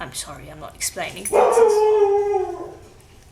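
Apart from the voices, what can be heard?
dog barking at birds on the balcony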